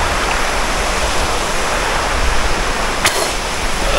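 Steady, loud rush of falling water at Radak waterfall in Tuba, a dense continuous roar filling the whole clip with no voices, only a brief sharp tick near the end.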